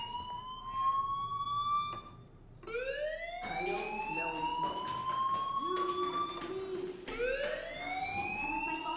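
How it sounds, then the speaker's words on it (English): Repeated rising electronic wail of a fire alarm in the video game Life is Strange, sweeping up in pitch several times over about nine seconds, loud and continuous with no talking. "Hey, do you hear that fire alarm? That means you should be outside."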